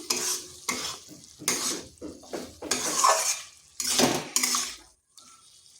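Ivy gourd and boiled potatoes with mustard paste being stirred in a pan, bursts of scraping and clattering utensil strokes against the metal separated by short pauses, with sizzling underneath and a quiet tail at the end.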